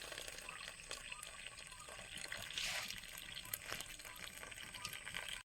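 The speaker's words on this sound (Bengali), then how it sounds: "ভাতের মার গেলে নিচ্ছি।" Starchy water drains off a pot of cooked rice in a home kitchen, a continuous close trickle and pour that runs steadily for several seconds.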